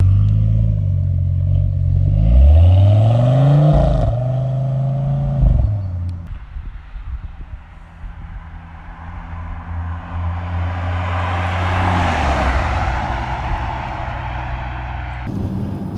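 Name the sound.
modified V10 Audi RS6 Avant C6 engine pulling away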